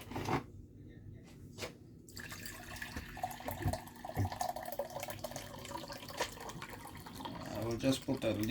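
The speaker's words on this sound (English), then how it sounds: "I'm gonna put some water in there." Tap water runs into a cooking pot for saltfish in a home kitchen, a soft splashing and trickling with drips, fairly quiet and close, with a voice speaking over parts of it.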